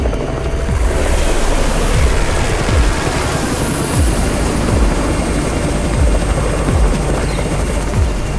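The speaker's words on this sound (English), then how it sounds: "It's the Raven's chopper! We have backup!" A helicopter in the zombie survival game Undawn arrives overhead, its rotor beating in a loud, steady rhythmic chop over a broad rushing wash of engine and wind noise, with no talking.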